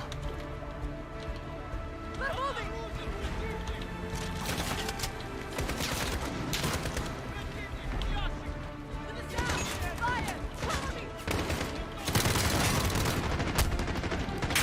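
Dense, continuous gunfire from Call of Duty Modern Warfare, rapid rattling bursts with loud cracks throughout and an even heavier stretch near the end, sustained and close.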